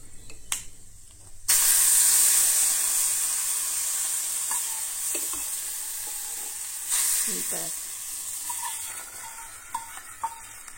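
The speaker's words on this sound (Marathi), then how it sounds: "हांगसर ना आतां हांव फोडणी ऍड करतले" Hot tempering poured into a pot of Goan white peas (vatana) curry, which bursts into a loud sizzle and then settles into a steady hiss with small crackles and a second flare of sizzling.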